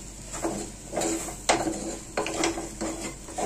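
Chilli powder, both hot and Kashmiri, being stirred into a cooking pan for beef curry, a metal spoon scraping and clinking against the pan in repeated strokes, near and moderately quiet, with no voices.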